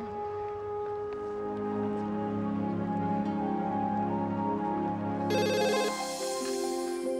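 A phone call rings through, with a repeating electronic ringtone melody sounding steadily and close, then a brighter tone joins near the end.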